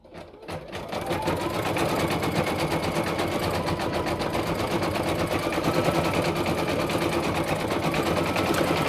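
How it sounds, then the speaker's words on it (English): A Brother VE2200 single-needle embroidery machine stitching a design on a hat in a hat hoop, starting up and then running in a fast, steady, close rhythmic chatter that continues without pause. "I'm gonna lower the pressure foot, hit go. And I will let that one stitch out."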